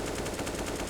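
Rapid automatic gunfire in a Counter-Strike match on the Mirage map, a dense burst of fast repeated shots filling the whole brief moment.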